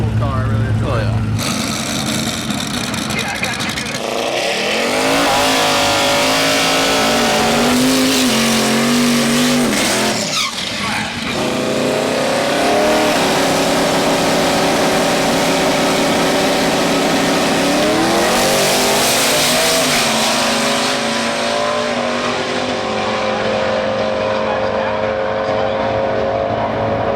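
A Ford Mustang race car with a Coyote V8 roars loudly and continuously, its engine pitch rising and falling as it shifts and accelerates through a race. Commentators talk over the noise the whole time.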